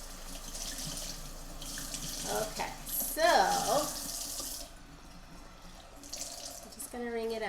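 A faucet runs as fabric is wetted before ice dyeing, giving a steady splashing water stream with sink sounds that swell in the middle. A voice speaks briefly near the start.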